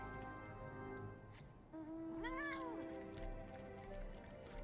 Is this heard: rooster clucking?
no